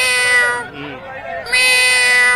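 A man mimics a cat, giving two drawn-out nasal meows close to the listener with a short dip between them, over a murmuring crowd.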